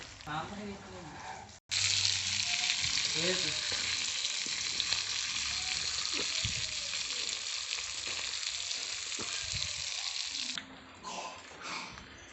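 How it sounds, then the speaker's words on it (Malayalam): Loud, continuous sizzling of fish frying in a hot pan, starting after a short pause and running steadily, with a voice speaking briefly at first. "ഞാനത് മീൻ പൊരിക്കുന്ന പണിയാണ്"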